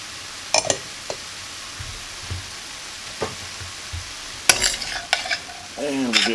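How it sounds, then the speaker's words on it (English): Onion and mushrooms frying in a pan for Asian chicken lettuce wraps are stirred, with a low sizzle under scattered spatula scrapes and clinks, a busier burst of stirring near the end. "And we'll give that all a stir."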